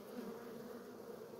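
Asian hornets buzzing around beehives in an apiary, a continuous droning hum of many insects in flight, steady and moderately close, with no voices.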